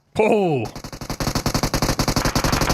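Rapid bursts of gunfire crack out in a battle royale match, a dense, steady string of loud reports following a brief electronic tone, continuing fast and close throughout.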